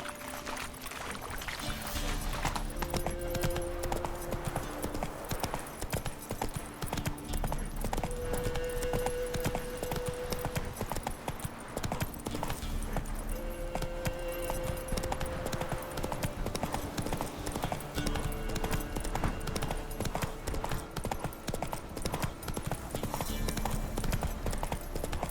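Roach the horse galloping in The Witcher 3, a fast continuous drumming of hooves throughout, near and steady, with soft background music and an occasional faint whinny.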